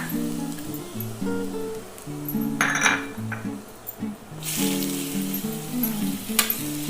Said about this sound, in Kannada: ಇವಾಗ ತುರಿದಿರೋಂಥ ಕುಂಬಳಕಾಯಿನ ಹಾಕ್ಕೊಳ್ತಾ ಇದ್ದೀನಿ